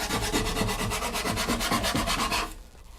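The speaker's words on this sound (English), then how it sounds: "and I'm going to sand it" Sandpaper wrapped around a paint stick rubs along the edge of an acoustic guitar kit body beside the fretboard, giving steady rhythmic back-and-forth scratchy strokes, close and loud, for about two and a half seconds before stopping.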